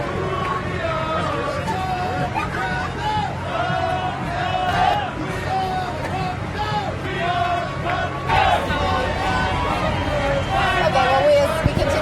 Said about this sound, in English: as they are cheering loud